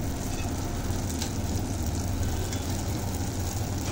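Pitha batter of semolina, flour and egg frying in hot oil, a steady, dense sizzle holding at an even level throughout with no pauses and no voices.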